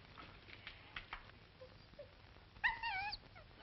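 A dog whimpers and yips in a 1940s film scene, with brief high, wavering whines near the end after a quiet stretch, fairly close but soft.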